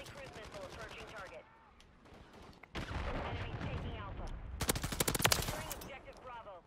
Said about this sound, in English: Thought I heard someone shoot back here